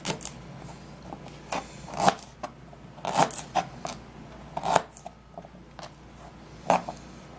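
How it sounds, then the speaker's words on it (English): Knife cutting fresh ginger into tiny pieces on a chopping board, heard as a sparse series of sharp, close taps and scrapes at an irregular pace, with quiet pauses between strokes and no talking. "so now I'm gonna be cutting the ginger into tiny pieces."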